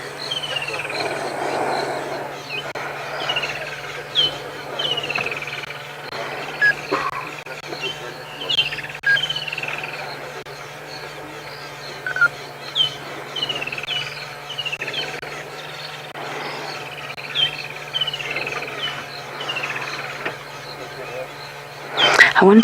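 Birds calling at dusk in the African bush on a sunset safari, repeated chirps and tweets near and far over a steady hum of insects and crickets, with a voice talking intermittently.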